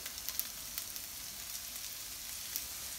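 Spinach sautéing in a pan with cooked onions and sun-dried tomatoes gives a steady, close sizzle with a soft hiss, with no talking over it.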